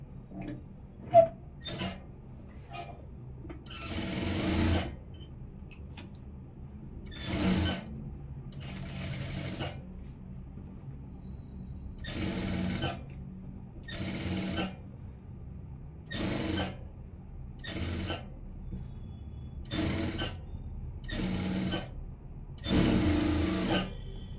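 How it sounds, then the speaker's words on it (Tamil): A sewing machine stitches along the lining edge of a churidar in repeated short runs, each burst of whirring needle action separated by quiet pauses, close and clear. "இப்போ லைனிங்கில் ஓரமாக தையல் போட்டுறேன்."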